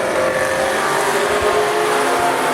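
A 253 Holden V8 race car roars at full throttle on a speedway track, a loud continuous engine drone held steady and close with no talking.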